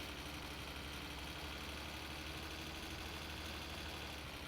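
A diesel van idles in the video game My Summer Car, a low, even engine drone with a faint rattling texture that holds steady and quiet throughout, with no voices.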